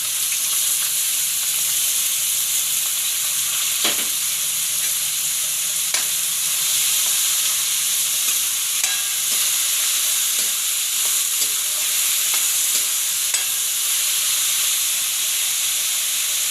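Moth beans hit hot tempering oil with curry leaves in a Gujarati home kitchen, giving a continuous close sizzle and hiss with scattered spoon taps and stirring clicks.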